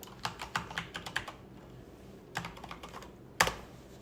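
A computer keyboard clicks in quick bursts of keystrokes, close and crisp, with short pauses and one sharper final tap.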